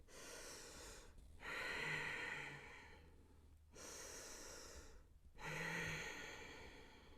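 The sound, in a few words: breathing during a yoga pose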